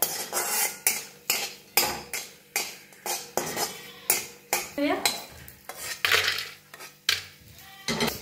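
Cardamom pods dry-roast in a pan, stirred with rhythmic scraping and rattling strokes roughly twice a second, close and fairly loud, with no sizzle.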